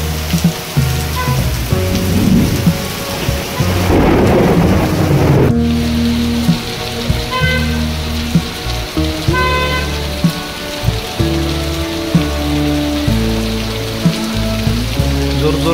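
Heavy rain pours during a thunderstorm in Nanded, India, with a steady, dense roar of rain throughout and a louder rumbling surge partway through that fits thunder.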